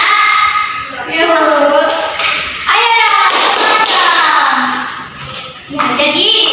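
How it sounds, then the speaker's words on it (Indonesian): Schoolchildren in a classroom clap out the 'tepuk semangat' spirit-clap rhythm, loud rhythmic taps and thuds in bursts, with children's voices chanting and talking along throughout. "Kita tepuk semangat dulu ya nak"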